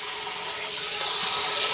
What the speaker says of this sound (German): ich lasse hier ein warmes Wasser rein